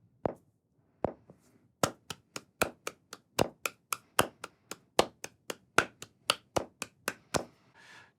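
Hands clap in a quick, even subdivided rhythm, two claps to each beat of the pulse, sharp and close, with a few sparse claps before the steady run begins.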